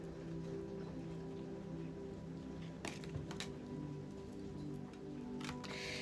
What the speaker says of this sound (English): It's raining, okay?